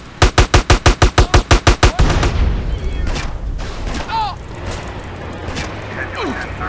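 A fast burst of about ten evenly spaced gunshots in GTA: San Andreas rings out loud and close, then gives way to a low rumble and scattered game noise, with a voice briefly audible.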